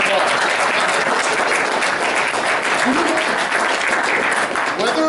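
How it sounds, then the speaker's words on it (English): An audience at a fan convention auction applauds, dense sustained clapping that stays loud and even throughout. "Let's give another round of bravery applause."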